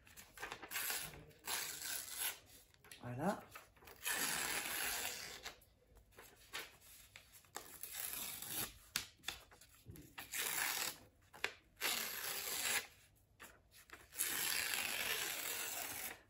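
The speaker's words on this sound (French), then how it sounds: "On va déchirer les bouts du papier." Paper being torn at its edges by hand, several crinkly ripping and rustling bursts broken up by short pauses, close and soft, with a single brief spoken word.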